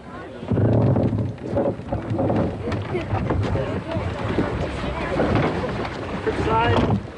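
A wooden York boat is rowed on the water at Fort Edmonton Park: rhythmic oar strokes and splashing under heavy wind rumble, with people talking throughout.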